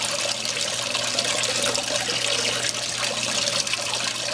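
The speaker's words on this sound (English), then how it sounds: "Just washing your black sand off." Water runs steadily across a gold clean-up table, rinsing black sand off its surface in a continuous broadband wash that stays close and even from start to finish, with no talking.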